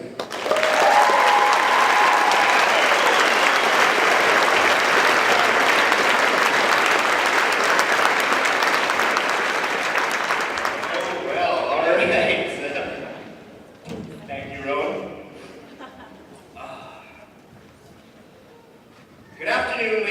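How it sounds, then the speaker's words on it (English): Sustained applause from a graduation audience greets a guest speaker, loud and dense for about ten seconds before thinning to scattered claps and settling, with a burst at the end. "Please give a round of applause for Trevor Sytnick"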